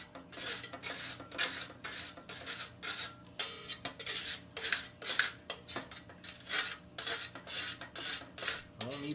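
A blade is rubbed back and forth on a very soft sharpening stone, giving a steady series of raspy strokes in a quick, even rhythm, close and clear with no talk.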